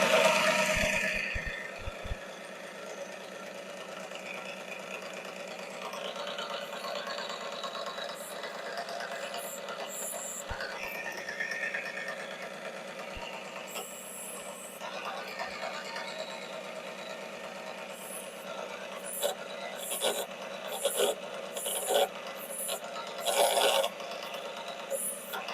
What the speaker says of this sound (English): Okay, I've now finished grinding them.